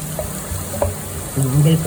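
Cashews frying in hot ghee give a close, steady sizzle with a few stirring scrapes, and the frying grows slightly louder toward the end.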